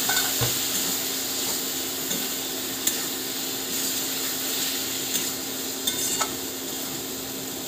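Spice paste sautéing in oil for an aloo begun tangra fish curry gives a steady, fine sizzle throughout, with occasional scraping and clinks of a spatula against the pan.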